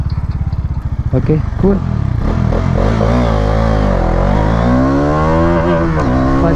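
A Bajaj Dominar 400 motorcycle engine revs and pulls hard through a 0-to-100 acceleration run, its rising pitch sweeping upward and steady close to the rider, with a brief spoken remark near the start.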